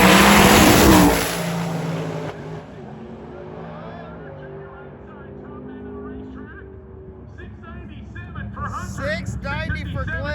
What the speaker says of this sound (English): we are back to racing with two very, very cool cars